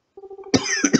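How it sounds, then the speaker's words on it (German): A person coughs in a short, close burst of two or three rough hacks, preceded by a brief throaty, voiced rasp. "Ja, der Hust ist like Karma."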